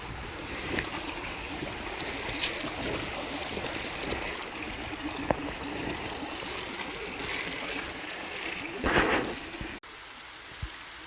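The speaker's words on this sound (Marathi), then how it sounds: "आणि पुढे वॉटरफॉल आहे" Water rushes steadily from a stream and waterfall in a deep, densely forested valley, a continuous close broadband roar with no voices over it.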